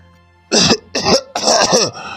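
A person coughs three times in quick succession, loud and close, with a short rasping throat-clearing quality and no talking.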